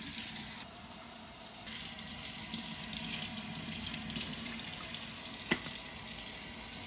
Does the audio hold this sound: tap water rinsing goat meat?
yes